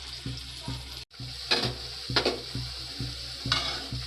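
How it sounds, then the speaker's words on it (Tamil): Chettinad kuzhambu curry bubbles and sizzles in a pan, with rhythmic stirring knocks and bursts of frying hiss close to the microphone, no talk. "கொதிக்குது."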